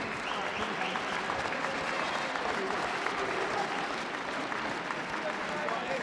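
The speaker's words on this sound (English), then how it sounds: "let's please have a round of applause for both boxers" An arena crowd applauds both boxers after a bout at Sunderland's live venue, a thick, continuous roar of clapping with crowd noise and no clear speech on top.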